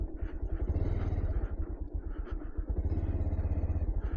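A motorcycle rides along a village road on a winter morning in Bangladesh, its engine a continuous low, throbbing rumble heard close and steady throughout.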